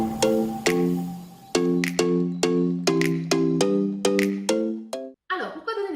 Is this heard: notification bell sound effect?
yes